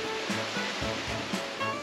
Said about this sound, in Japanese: 滝三連ちゃんで来てみました。